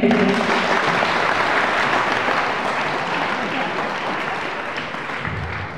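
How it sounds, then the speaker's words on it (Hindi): Loud, sustained applause from an audience at a youth church gathering, steady clapping throughout that fades slightly toward the end. "जोरदार ताली बजाते हैं।"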